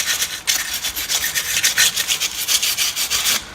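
Steady back-and-forth scrubbing of rust off the rear differential cover on a 2007 Ram, a rapid rhythmic rasping that runs close and loud without a break, with no talking.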